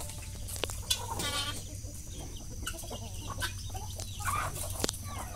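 Chickens peck at feed in a yard in the morning, clucking softly and repeatedly up close, with scattered short calls and light tapping over a quiet outdoor background.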